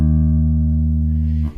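Single open bass guitar note, full and sustained for about a second and a half before being cut off, played alone.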